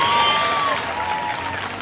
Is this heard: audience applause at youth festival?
yes